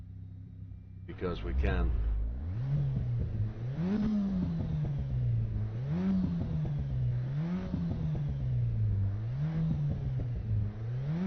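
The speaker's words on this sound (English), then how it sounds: "Let's enter the track and just sit and rev in the engine" Car engine in the racing game Assetto Corsa Evo revved while stationary on track, rising and falling in roughly regular surges after a sharp start-up, loud throughout, with someone talking over it.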